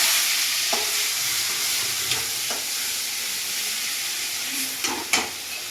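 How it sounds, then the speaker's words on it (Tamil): Ground masala paste fries in hot oil for a fish curry, a steady loud broadband sizzle throughout with a few sharp spatters and stirring scrapes, with no talking. "இப்போ எண்ணெய் ஊற்றுறேன் இதை பாருங்கள் அதை பொறிச்சு வச்சுக்கிறேன்"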